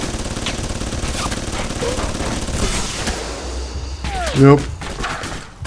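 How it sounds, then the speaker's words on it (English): Autocannon fire in the video game Alpha Protocol: a rapid, loud stream of shots rattles for several seconds. A voice speaks briefly, and a heavy thump lands near the end. "Is that an autocannon? That's an autocannon."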